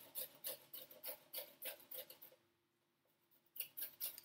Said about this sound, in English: Give them a good grate.